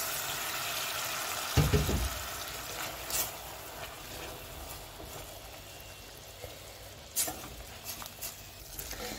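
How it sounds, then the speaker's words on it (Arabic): Water splashes into a pan of frying tomato, onion and garlic soup base, a brief loud hiss burst, then a steady sizzle and patter with occasional pops continuing. "نصب شويه ماء باش ما يتحرقش"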